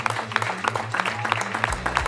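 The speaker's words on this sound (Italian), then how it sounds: "A fianco, facciamogli un altro applauso" Scattered hand clapping at an Italian film-casting pageant stage event, a handful of separate claps over a low hum of music, fairly faint and brief.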